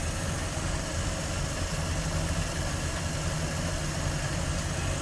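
A 1946 Lincoln Twelve coupe's V12 engine with new plugs and a 6-volt system idles nearby, a steady, even low rumble with a smooth mechanical hum and no pauses.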